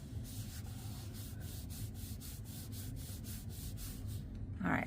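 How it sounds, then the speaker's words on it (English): A glued paper card is burnished flat to press the adhesive down, making a steady run of close, soft rhythmic rubbing strokes, about a dozen in quick succession, with no voices. "I just kind of give it a little burnish just to really press that glue on there"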